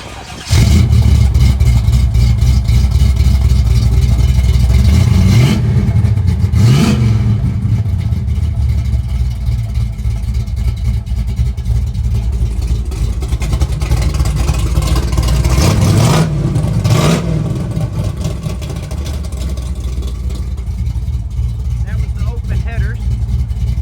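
A restomodded 1968 Chevrolet Chevelle's loud engine runs continuously, with two distinct revs rising and falling, throaty and close, under a constant rumble.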